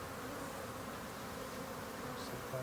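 Honeybees buzz steadily around freshly cut queen cells at a hive, a dense, continuous drone close by, with no speech.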